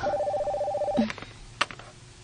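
A telephone sound effect in a radio drama: a steady electronic ringing tone for about a second, then brief clicks and a short beep as the handset is picked up, fairly close and alone without talk.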